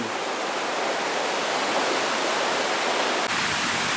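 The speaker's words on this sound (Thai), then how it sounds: "วันนี้เรามาถึงน้ำตกห้วยทรายเหลืองนะครับ" Huay Sai Lueang waterfall pours in a steady, dense roar of falling water, close and unbroken throughout with no voices.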